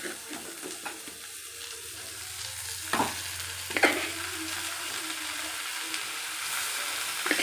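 Chopped banana flower sautéing in a pan, a faint, soft sizzle with a few sharp scrapes and stirring knocks, fairly quiet and with no voices.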